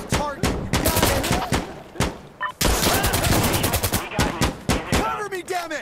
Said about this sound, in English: Station, this is Observer requesting a gun run at this target!